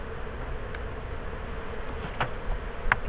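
Honeybees buzz continuously in an open beehive in Ohio in summer, a dense, close, even hum with a couple of brief louder passes near the end.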